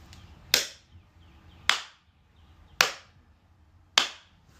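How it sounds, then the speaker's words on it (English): Four sharp, loud claps ring out alone in a quiet bedroom at night, evenly spaced about a second apart, each with a short echoing decay. "I really thought there was somebody standing in my room clapping"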